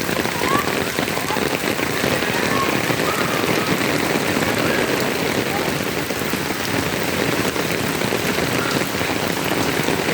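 Heavy monsoon rain pours down at a school in Bangladesh, a dense, steady hiss of drops drumming on surfaces that stays loud and unbroken throughout.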